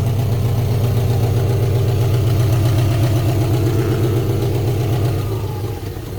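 Steady idle of a 1986 Subaru Brat engine just after starting, a loud, even low-pitched rumble with a fine periodic pulse, close by, easing down slightly in the final second.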